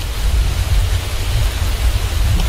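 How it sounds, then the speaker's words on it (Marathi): Rain pours down over a rice paddy during transplanting, a dense, steady hiss with a low rumbling undertone, close and fairly loud, with no talk. "पाऊस आला म्हणून थोडा ब्रेक घेतले."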